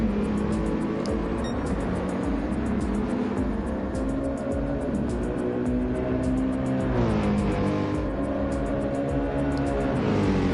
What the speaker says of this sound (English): As we see Okuno onto the banking for his first flying lap